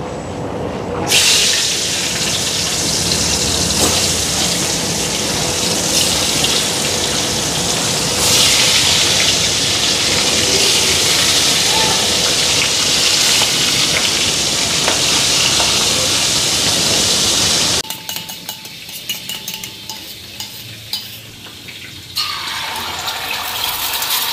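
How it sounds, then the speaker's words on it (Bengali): Boal fish fries in a pan with a loud, dense, steady sizzle for most of the stretch, then drops to a quieter crackle with some clinking near the end. "আগে ছোটো মাছগুলি ভাজছি আমি, তারপরে বোয়াল মাছগুলি ভাজো"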